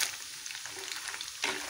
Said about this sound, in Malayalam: എനിക്ക് വറുത്ത് കോരുക.